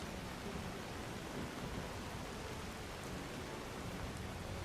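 Steady rainfall in the fantasy game Enderal, a Skyrim mod, near a small grove with a fire by a boat, a dense even hiss of rain with no talking.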